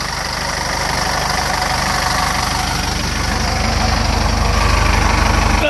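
A Cummins 4BT diesel swapped into a 1993 Ford F-150 idles steadily and close by, a loud, even low-pitched clatter with a rapid knocking rhythm that holds unchanged throughout.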